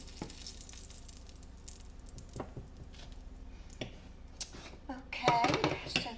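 Shrimp fry in a pan with a quiet, steady sizzle. Occasional clinks and stirring knocks break in, and a louder burst of sizzling and clatter comes near the end.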